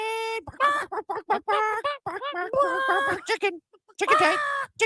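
Chickens cluck in a radio show sound effect, a close burst of choppy, squawking calls that rise and fall in quick irregular bursts with brief gaps and no talk over them.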